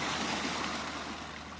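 Seawater washes and laps steadily against the side, a continuous close rushing wash with no distinct individual slaps, alone without voices.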